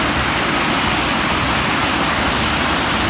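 Continuous loud rush of storm runoff pouring over rocks, a dense steady roar with no pauses, heard up close and alone.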